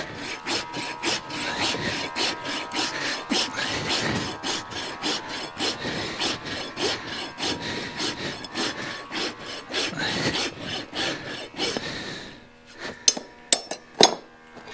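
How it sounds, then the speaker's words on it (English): An old, dull rasp files a horse's toe during shoeing in steady back-and-forth rough scraping strokes, close and continuous, ending with a few sharper knocks and taps. "My rasp is old. It's not cutting as good as it should be."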